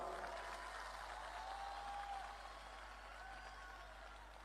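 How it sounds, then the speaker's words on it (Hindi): Audience applause at a Kumar Vishvas appearance during the Khurai Dohela Mahotsav, a dense, steady wash of clapping that fades slightly toward the end, moderately distant with no talk. "थोड़ी तालियां आपकी कमजोर थी, तालियां बजा के बताइए"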